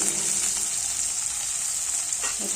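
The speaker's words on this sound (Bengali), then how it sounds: "তেজপাতা দিয়ে আমি পেঁয়াজ কুচিটা দিয়ে দেবো এখন। আর পেঁয়াজটা কিন্তু ভালো করে ভাজতে হবে।" Chopped onion with bay leaves frying in hot oil: a steady, close, even sizzling hiss running alone without pause.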